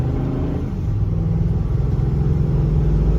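A Godzilla motorhome with a 7.3 liter gas engine accelerating at about half throttle up a hill, its deep, steady engine rumble loud and continuous throughout.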